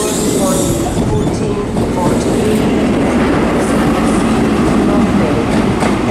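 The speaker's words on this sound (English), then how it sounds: "This train is formed of 4 coaches." A four-coach LNER train moves through Edinburgh Waverley station on the East Coast Main Line, a loud continuous rumble with rhythmic wheel clatter and faint squeals, close by.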